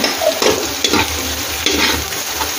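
Red onion sautés with ginger in a pan, giving a close frying sizzle broken by repeated stirring scrapes and clatters.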